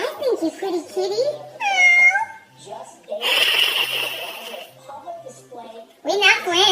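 Someone speaks up close while a cat lets out a short meow in the middle, then more chatter and noise follow.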